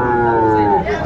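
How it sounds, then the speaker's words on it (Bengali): A Sahiwal bull at a cattle market in Dinajpur lets out a loud, close, sustained moo with a strong harmonic tone that wavers slightly before fading. "শাহিওয়াল একটা ষাঁড় আমরা দেখছিলাম।"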